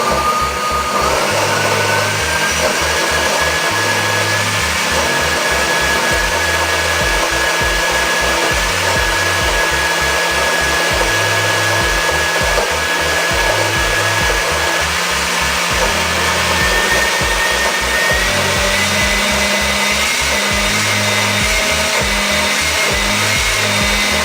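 A blender whirs steadily, blending a raw vegan faux mayonnaise sauce, a loud continuous motor drone running unbroken for the whole stretch with no talking.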